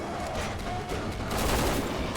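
Rapid gunfire from a Resident Evil 6 co-op firefight, a dense run of close, loud shots and bursts packed together over a couple of seconds with no break.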